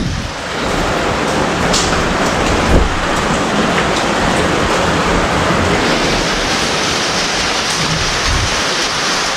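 Heavy rain pours down in a loud, constant hiss, dense and unbroken, with no voices.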